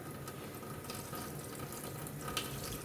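Tap water runs steadily at a sink while beef shank is washed, a soft continuous hiss with faint splashing, fairly quiet and without voices.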